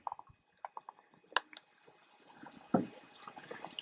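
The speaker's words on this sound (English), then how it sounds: "beaver dam that's got some nice water. It just sounds nice and pretty." Water trickles over a beaver dam in quiet, intermittent drips and small splashes, faint and sparse against a calm outdoor background.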